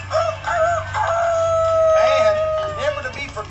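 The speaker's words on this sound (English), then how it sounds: "Give a big welcome to my good friend on the post over there, Rusty Rooster." A rooster puppet crows at a kids' stage show, a drawn-out cock-a-doodle-doo with a long sustained note, mid-distance, over a low background hum and some faint voices.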